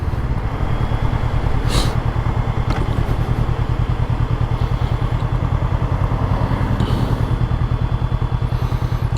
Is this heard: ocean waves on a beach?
no